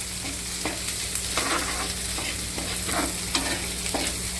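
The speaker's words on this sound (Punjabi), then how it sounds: "ਹੁਣ ਮਿਰਚਾਂ ਪਾ ਦਿੰਨੇ ਆ ਹੁਣ ਇਹਨਾਂ ਨੂੰ ਭੁੰਨ ਲਾਂਗੇ" Green chillies and onions frying in oil in a home kitchen for a milk-based green chilli sabzi, a constant loud sizzle broken by repeated scraping stirs of a spatula, with no talking.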